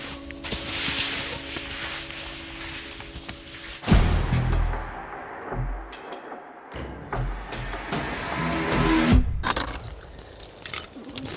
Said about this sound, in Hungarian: A sorompó kulcsok azok jól felfogott érdekből elég gyorsan cserélődnek